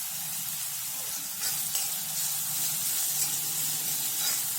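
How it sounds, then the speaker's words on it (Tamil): Onions, green chilli and curry leaves sizzle steadily in hot oil while being sautéed for a parotta side dish, a constant close frying hiss with faint stirring scrapes. "வெங்காயம் நல்லா செவந்து வர வரைக்கும் வதக்கி விட்டுக்கோங்க"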